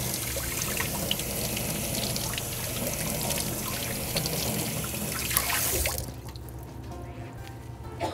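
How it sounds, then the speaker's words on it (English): Hot water runs steadily from a kitchen tap over an ice cream container, a continuous close splashing rush that cuts off abruptly near the end, leaving faint room noise. "So we ran a little hot water on that."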